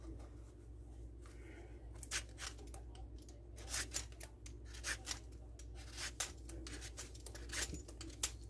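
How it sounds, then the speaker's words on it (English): A cushaw squash is peeled by hand in a series of irregular, close scraping and rasping strokes with short pauses between them, fairly quiet. "Okay, so we're going to actually just peel."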